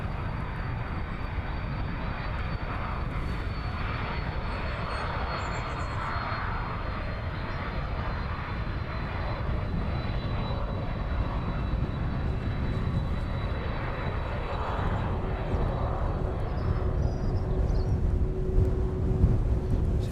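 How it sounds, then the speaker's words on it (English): A DHL Boeing 767 cargo jet coming in to land at East Midlands on a windy evening, its engines a steady, broad roar that swells slightly as the aircraft draws closer, continuous and alone throughout. "DHL 767 here from JFK this evening."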